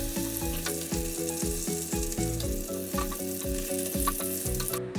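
A second batch of chicken pieces deep frying in hot oil for Kerala-style chicken fry, a continuous bubbling sizzle with a rhythmic musical bed running underneath.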